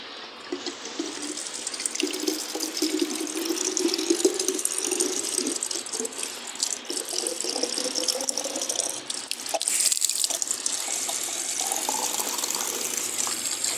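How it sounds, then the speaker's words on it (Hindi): Water runs steadily from a tap into a container, filling it to carry to a plant; a continuous close, moderately loud rushing flow with shifting pitch as the vessel fills, no talking. "अब यहाँ से पानी और भरूंगा"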